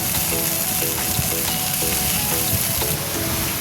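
Chopped onion, green chili and red spinach fry in a pan, making a continuous close sizzle broken by periodic stirring scrapes.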